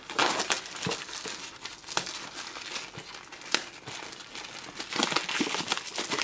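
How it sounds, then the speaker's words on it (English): Plastic shrink wrap on a OnePlus 6 phone box crinkles and crackles close up, with steady crumpling and a few sharper tearing bursts running throughout. "Looks like shrink wrapped in plastic."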